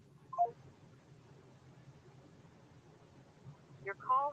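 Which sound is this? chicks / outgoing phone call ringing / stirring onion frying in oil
outgoing phone call ringing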